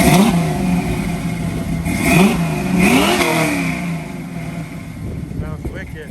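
The big-block V8 of a 1967 Camaro is revved repeatedly in short, sharp blips that rise and fall close by, with voices talking over the engine.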